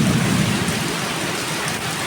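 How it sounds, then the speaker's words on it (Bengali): Heavy rain pours steadily during a thunderstorm, a dense close hiss with a low rumbling undertone of thunder, continuous throughout with no voices. "অলরেডি ঝড় তুফান চালাইয়া দিছে"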